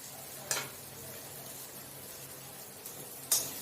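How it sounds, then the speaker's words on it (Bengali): Spiced paneer is sautéed in a pan, making a soft, constant sizzle with two sharp scraping clicks from stirring, close by and fairly quiet, with no talking. "দিয়ে এটা ভালো করে কষিয়ে নেব"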